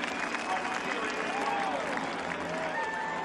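Crowd applause at a NASCAR Sprint Cup race, the Budweiser Shootout at Daytona, rolls on as a steady, dense wash of clapping from a distance, without pause.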